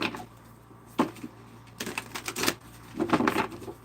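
Tarot cards are shuffled close by in short papery bursts of riffling and slapping. A single snap comes first, then two longer flurries of rapid card noise with quiet gaps between.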